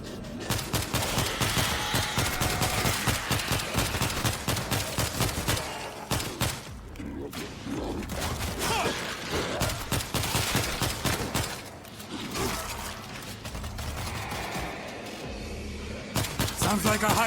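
Rapid bursts of video game gunfire crackle almost nonstop, loud and close, with brief pauses between volleys and voices talking over the shooting.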